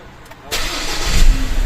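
A car engine cranks and fires up after a remote start command during a start-stop system test, a sudden loud burst settling into a steady rumbling idle, with a voice speaking faintly nearby.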